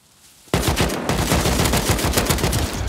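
Automatic-rifle gunfire in an online survival video game, starting abruptly after a quiet moment and continuing as a loud, close, rapid burst of shots throughout.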